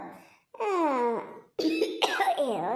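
A person coughing close by in two harsh, raspy bursts separated by a brief pause.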